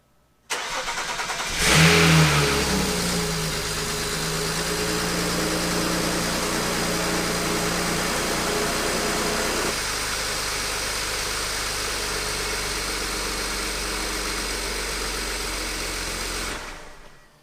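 A BMW N54 engine in an E93 335i cranks and catches with a loud burst, then settles into a steady, even idle that runs close and alone for over fifteen seconds.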